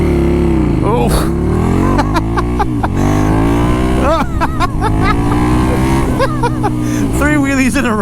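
A KTM Super Duke motorcycle revs hard and accelerates close by, its engine note climbing through several quick gear shifts, while a rider's voice briefly exclaims over the roar.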